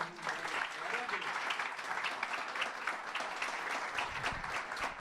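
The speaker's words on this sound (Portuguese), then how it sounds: "Dê um aplauso a Jesus, por favor." Congregation applauding during a church sermon, sustained even clapping from a crowd throughout, fairly distant and moderate, with a low thump near the end.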